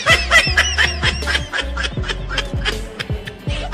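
A duck chasing a dog, giving loud, rapid honking quacks in quick bursts close by, rising and falling in an excited, repeated rhythm.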